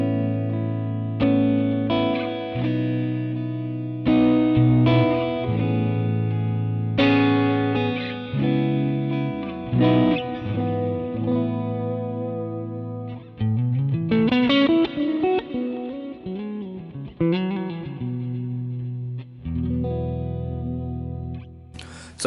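Electric guitar played through a Vox AC30 Fawn amp model on a Line 6 Helix, ringing strummed chords and single-note runs with chorus and echo, clear and upfront with short pauses between phrases.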